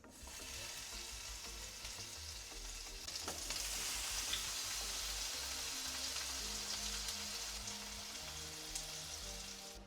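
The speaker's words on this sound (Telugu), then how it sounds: "మనం క్లీన్ చేసి పెట్టుకున్న పన్నీర్ పీసెస్ అందులో వేసుకుని లైట్ గోల్డ్ కలర్ వచ్చేంత వరకు ఫ్రై" Paneer pieces fry in hot ghee in a pan, giving a steady close sizzle that swells louder partway through and holds as a dense crackling hiss, with no talking.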